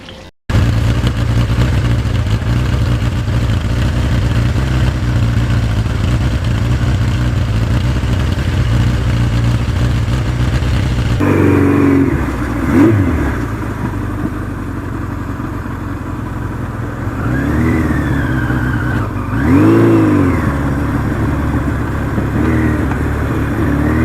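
A 1982 Suzuki GS1100E motorcycle engine runs steadily while riding, a loud continuous drone with wind rush, then shifting pitch with brief rises and falls as the bike changes speed.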